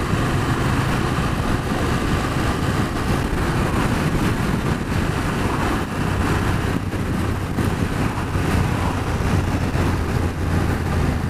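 A BMW F750GS motorcycle engine runs on a test ride as a steady, loud, low drone mixed with wind rush. The tone holds continuous, with no clear revving and no voices.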